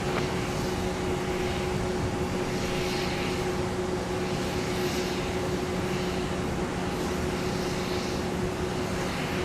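United airliner arriving at MSP airport on runway 30, a steady loud jet roar with a constant engine whine that holds throughout without pause.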